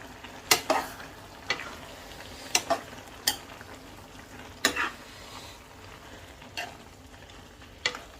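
Scraping and clinking of a utensil stirring pork belly and bamboo shoots in a pan, in irregular strokes over a soft, steady simmer on low heat.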